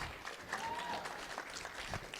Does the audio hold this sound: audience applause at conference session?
yes